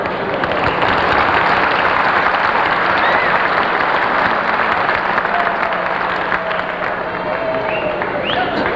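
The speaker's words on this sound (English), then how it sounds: "could we have a nice round of applause for all of this year's inductees?" Sustained audience applause for the year's hall of fame inductees at an induction ceremony, a dense, steady wash of clapping that fills the room for the whole stretch, with faint voices mixed underneath.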